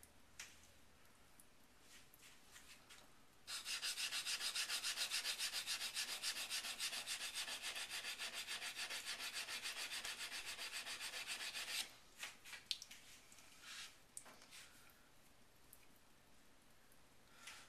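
Chisel being sharpened on a sharpening stone: a few short strokes, then a long, steady hissing rub lasting several seconds, followed by a scatter of brief scrapes, quiet and close.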